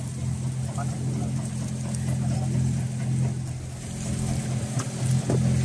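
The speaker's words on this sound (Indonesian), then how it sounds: "sayup-sayup kita dengar mesin di depan sana. Itu mesin untuk penarikan atau penurunan jaring." Engine on a bagan fishing platform used for hauling or lowering the net, a steady low droning rumble heard faintly in the distance under a person talking nearby.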